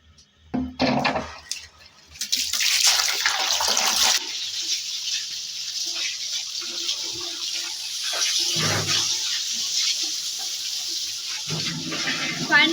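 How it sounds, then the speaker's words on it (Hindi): Water gushing from a tap fed by a motor pump at home into a container, a steady rushing flow with splashing and handling noises at the start and soft voices in the background. "तो जल्दी जल्दी से हम पानी भर लेते हैं।"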